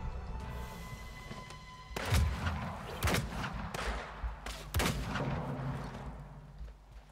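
Shotgun blasts in the action RPG Weird West, several loud booming shots at irregular intervals over a constant low ambient rumble of game audio.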